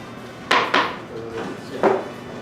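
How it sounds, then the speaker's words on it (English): A knife chops fresh basil on a board, making three sharp, close knocks: two in quick succession, then a third after a short pause. "now we're going to cut half of this basil and chop it all up"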